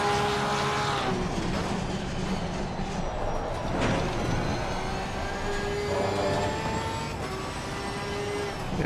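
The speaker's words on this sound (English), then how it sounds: "The way the Porsche shoots out of corners is amazing." A Porsche race car engine in Assetto Corsa Competizione accelerating out of corners: a rising, buzzing engine note with gear shifts and pitch sweeps, fairly steady and close, without any talking.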